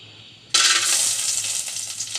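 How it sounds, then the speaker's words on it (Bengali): Dry fruits and nuts drop into hot ghee in a pan and set off a sudden, close frying sizzle. It crackles on briefly and eases slightly toward the end. "একটু ড্রাই ফ্রুটসগুলো একটু ভেজে নিচ্ছি"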